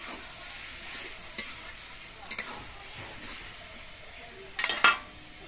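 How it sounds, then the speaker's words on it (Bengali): Banana flower fries in a pan as a spoon stirs it, giving a faint, low sizzle broken by a few soft scrapes and clinks against the metal, the last cluster a little louder. "মোচাগুলোকে আবার নেড়ে দিতে হবে।"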